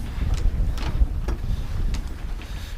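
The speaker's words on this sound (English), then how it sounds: "Now the wind's picking up" Wind gusts outdoors during a Land Rover 110 restoration, a steady low rumble buffeting the microphone with a few harder gusts and no voices.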